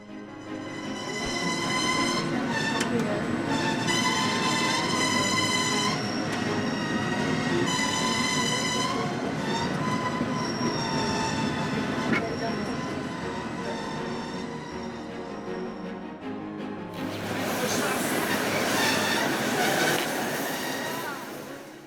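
A Swiss train without a central rack rail descends slowly, its loud steady rumble carrying tonal wheel squeal throughout, with a harsher, brighter screech rising near the end.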